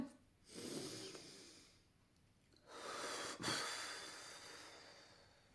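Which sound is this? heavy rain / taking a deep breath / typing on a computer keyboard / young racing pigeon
taking a deep breath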